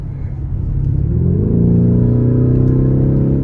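Lamborghini Urus engine revving at half throttle, a loud, close rumble that climbs steadily in pitch and holds at a strong sustained drone, with no voices over it.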